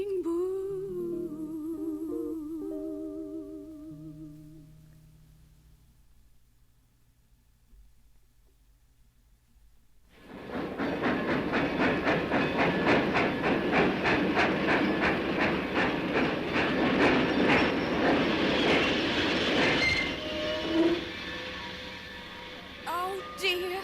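A train pulls into a station with steady rumbling, hissing and rhythmic clickety-clack, loud and continuous for the latter half after a quieter stretch of music and voice at the start.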